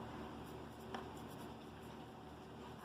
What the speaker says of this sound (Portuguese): deixa eu escrever aqui para facilitar